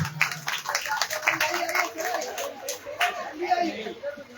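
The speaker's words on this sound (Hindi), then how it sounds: "एक जोरदार तालियां उनके लिए भी होनी चाहिए" Clapping from a small gathering at the inauguration of a renovated urban health centre, uneven bursts of hands mixed with chatter and voices, fairly close and lively.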